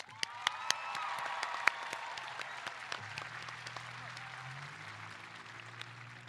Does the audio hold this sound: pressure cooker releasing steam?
no